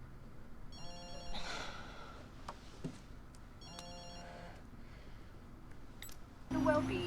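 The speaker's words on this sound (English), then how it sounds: "Very early phone call." A telephone rings early in the morning in an iZombie episode, two distinct electronic ring bursts separated by a pause, fairly faint against a quiet room, with voices and a few other noises around them.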